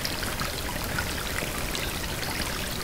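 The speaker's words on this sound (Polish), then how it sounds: "Potok płynie." A forest stream flows steadily through marshy, waterlogged woodland, its soft broadband rush and trickle continuing evenly throughout with no voices over it.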